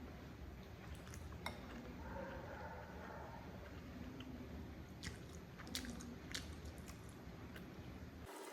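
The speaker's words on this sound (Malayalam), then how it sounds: "നമുക്കൊരു ചെറിയ ബൈറ്റ് തന്നെ എടുക്കാം" Spicy 2x noodles being bitten and chewed, with faint wet chewing and soft squishy mouth sounds, close to the mic, broken by a few light clinks of cutlery.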